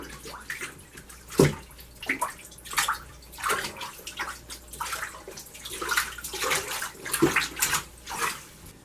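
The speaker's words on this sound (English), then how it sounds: "now we got everything filled with clean water, so I'm just going to just beat it up one more time" Laundry being beaten by hand in a tub of clean rinse water, producing repeated irregular sloshes and splashes, fairly close, with no talking.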